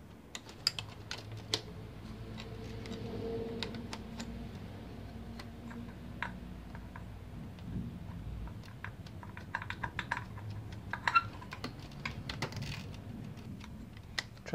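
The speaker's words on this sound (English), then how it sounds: "with the 10mm, I'm gonna loosen up both of the throttle cables" Quick metallic ticks and small clicks from a 10mm wrench loosening the throttle cables on a Honda VT750 Shadow ACE motorcycle, scattered and irregular over a low, steady background hum, close by and fairly quiet.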